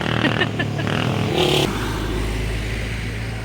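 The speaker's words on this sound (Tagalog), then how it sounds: "Motor ride." A motorcycle rides along a mountain road on a road trip, its steady engine drone and wind rush loud and close, with some clatter early on and brief voices.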